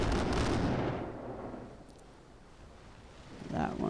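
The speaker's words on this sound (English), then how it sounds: "I'm taking fire from both of these ships" Naval cannon fire from sailing ships in the Pirates of the Burning Sea game: a loud rumbling boom at the start decays into wind and sea noise, then another blast swells near the end.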